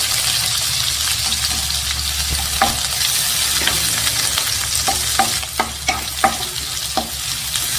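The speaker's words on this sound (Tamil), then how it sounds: "இதையும் சேர்த்துட்டு இது நல்லா வதக்கிடலாங்க" Sliced big onions being sautéed in a pan for mushroom gravy: a steady close sizzle runs throughout, broken by a few sharp spatula knocks and scrapes toward the end, with no voices.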